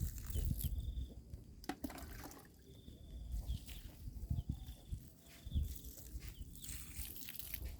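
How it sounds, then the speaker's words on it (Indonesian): Water is poured over a pile of cut grass being made into IMO 4 compost, a faint, soft splashing and trickling under low rustling and background noise, with a distant animal call. "Usahakan siramannya sampai merata."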